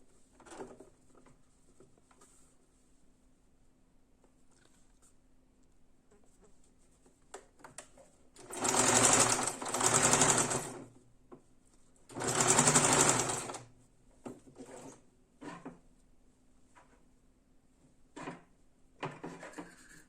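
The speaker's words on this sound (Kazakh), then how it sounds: "Төменнен жоғары қарай тігіп жатырмыз" A sewing machine stitches a complex patchwork quilt in two loud, close bursts of rapid mechanical whirring, separated by a short pause, with quieter clicks and fabric handling between them.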